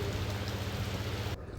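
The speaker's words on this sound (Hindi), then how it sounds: "बारिश इतनी तेज़ हो रही है कि बाहर निकल नहीं सकते।" Heavy rain during the monsoon season in Jharkhand, heard as a dense, steady roar of falling water that stops abruptly just before the end.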